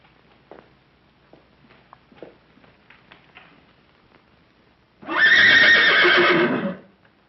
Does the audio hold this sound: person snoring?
no